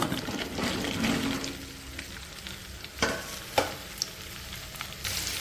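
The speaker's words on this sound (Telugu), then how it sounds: "ఇప్పుడు మనం బెండకాయలు వేసేసుకుంది" Cut okra sizzles steadily in hot oil in a pan, a continuous frying hiss with a few sharp clinks and scrapes of a utensil toward the end.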